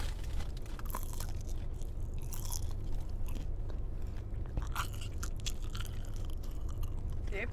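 A beefy Fritos burrito is chewed close to the mic, with continuous crunchy bites and wet mastication over a steady low background hum.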